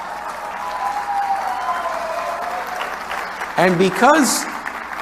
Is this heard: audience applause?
yes